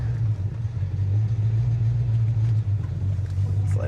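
A 1972 Pontiac Lemans Sport GTO big-block V8 idles steadily, its exhaust a deep, even low rumble held close and loud with no talk over it.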